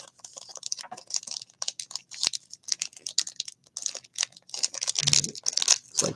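Sealed 2021 Topps Gypsy Queen card packs being torn open by hand, a close series of crinkling foil rips and crackles in irregular bursts, louder near the end, with no speech.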